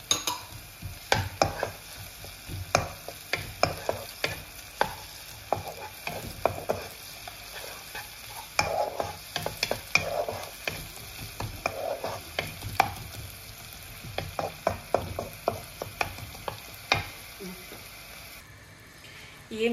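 Ginger garlic paste sizzles in a pan for butter chicken while a utensil stirs and scrapes, giving frequent irregular clinks and scrapes over a soft frying hiss.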